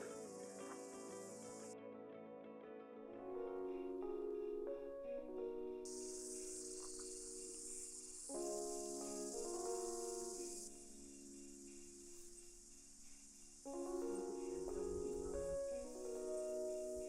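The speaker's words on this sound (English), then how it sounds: "Lots of cicadas and birds." Steady, shrill cicada drone fills the air, with bird calls chirping in and out throughout, outdoors on New Zealand's West Coast and fairly faint.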